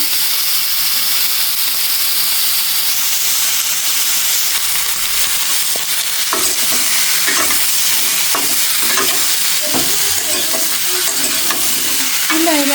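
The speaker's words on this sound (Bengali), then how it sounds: "এবারে তরকারির জন্য আগে মাছটি ভেজে নিচ্ছি" Fish sizzles steadily as it fries in oil in a pan on a gas stove, a continuous loud hiss with scattered clinks and scraping of a utensil stirring partway through.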